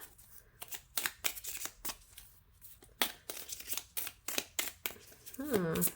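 A deck of cards for a pick-a-card reading is shuffled up close in a quick series of crisp riffling bursts, with a brief voice near the end.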